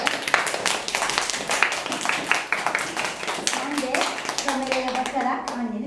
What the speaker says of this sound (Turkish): Seni alkışlayalım. Önce alkışlayın arkadaşlar.